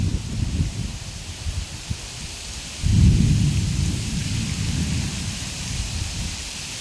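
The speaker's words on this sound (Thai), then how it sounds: "ฝนตก" Rain pours down in a continuous hiss while a low rumble of thunder rolls in partway through and lingers beneath the downpour.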